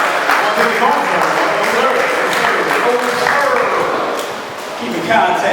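Applause and clapping from a crowd at the SBPM convention, a broad steady wash of hands that dips briefly near the end before swelling again, with a voice carrying over the noise.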